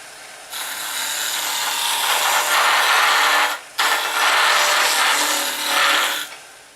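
A wood lathe spinning a blank while a roughing gouge cuts it, producing a loud, continuous rushing hiss of shavings up close, broken by one brief pause in the middle before the cutting resumes.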